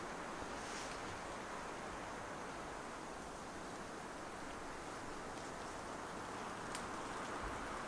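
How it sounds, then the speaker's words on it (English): Wind swirling through trees around an off-grid wilderness cabin on a -7 degree morning: a steady, faint broadband rush with no gusts standing out, alone with no talk. "You can hear the wind swirling through the trees."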